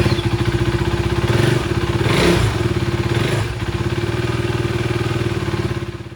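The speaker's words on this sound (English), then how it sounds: "So here my bike has started properly" A KTM RC motorcycle engine idles steadily up close, with a loud, even, rhythmic thrumming pulse and a mechanical clatter running throughout.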